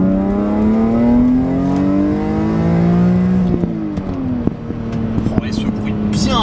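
BMW M3 E46 Touring straight-six engine revving hard, a loud rising harmonic drone that climbs steadily then drops back and settles, with a raspy growl and clicks toward the end, someone speaking briefly over it.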